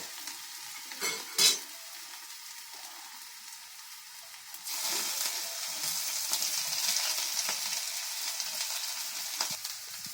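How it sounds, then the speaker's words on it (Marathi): Steady sizzling of onion and green chili frying in a tava, with a couple of stirring clinks early on and the sizzle growing louder midway. "तिथे कांदा मिरची ठेवते फ्राय करायला"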